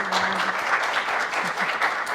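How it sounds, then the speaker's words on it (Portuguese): An audience gives a warm round of applause to welcome a speaker at a talk, with steady, dense clapping at moderate distance and no talking. "Vamos acolher a nossa doutora, irmã Valéria, com uma salva de palmas"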